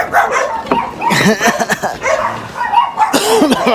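A newly adopted dog yips and barks in short bursts, close by, with whimpering in between and people talking around it.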